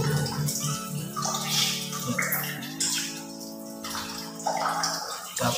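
Water runs into a cistern tank fitted with a float valve, a continuous close splashing and gurgling with tonal resonance that shifts in pitch as the tank fills.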